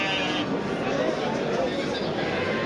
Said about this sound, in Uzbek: Mana yana ena qo'ylar bor ekan